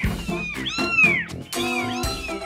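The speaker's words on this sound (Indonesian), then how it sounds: "ada 4 anakan kucing sekaligus ngumpet di atas plafon" Four kittens hiding above a ceiling mew repeatedly, high rising and falling cries overlapping in quick succession, close and clear.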